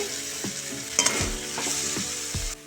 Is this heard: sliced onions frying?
yes